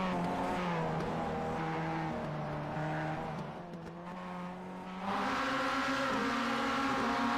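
Mazda MX-5 Cup race cars lapping Lime Rock in iRacing, engine notes droning and shifting pitch as they brake and accelerate, with a dip near the middle before a loud surge of revs, alone without voices.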